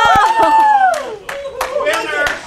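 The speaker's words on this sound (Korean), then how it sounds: "바로 이때 사무실 한편에서 환호성이 들렸다." Office staff at a company headquarters break into excited cheering and whoops with a few scattered hand claps as the sales team celebrates a new contract, voices overlapping loudly and close.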